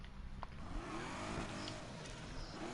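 Race car in Need for Speed Heat on PS4, a mid-pitched engine revving and surging with sweeping pitch changes, loud and continuous with the tyre squeal blended into the engine roar.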